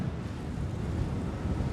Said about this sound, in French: Un vent brûlant balaie la vallée de l'Hadramaout à l'est du Yémen.